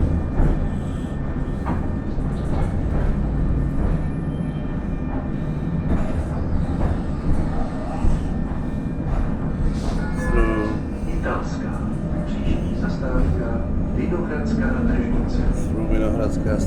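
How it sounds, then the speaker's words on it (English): A Prague tram rolls from Muzeum station along Vinohradská Street, with a steady low rumble of wheels and motor and faint squeals and clatter from the street, heard from inside the car. "Today Tram Ride from Museum Station along the Jirak radio building."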